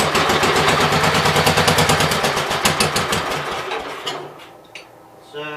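A Gravely 810 tractor engine on choke sputters loud and close, firing in a rapid rhythmic chug that falters and dies out after a few seconds, then gives a brief whir at the end.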